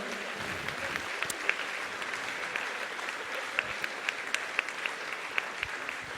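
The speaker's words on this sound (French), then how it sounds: "On les applaudit une nouvelle fois." Audience applauding children at a swimming pool inauguration, a steady, fairly distant wash of clapping with sharper individual claps standing out, lasting throughout.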